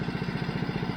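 A Honda HRX217 walk-behind mower runs steadily while cutting and mulching reasonably tall grass, its small engine giving a continuous, close, pulsing drone with no voices.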